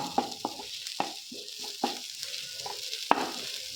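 A chili powder spice mix frying in a pan, with soft sizzling and repeated sharp scrapes and taps of a spoon stirring, fairly quiet and close.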